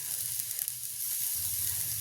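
Shallots, garlic and curry leaves fry in hot oil with a steady, close sizzle and hiss that continues without pause, no voices over it.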